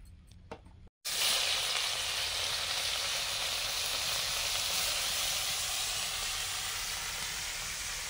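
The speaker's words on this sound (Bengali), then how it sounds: "এই চুনো মাছ মা কেটে ধুয়ে দিয়েছে, নুন হলুদ মাখিয়ে ভাজবো।" Small chuno fish coated in salt and turmeric hit hot oil after a brief quiet moment, then a loud, dense sizzle roars on evenly and close by without a break.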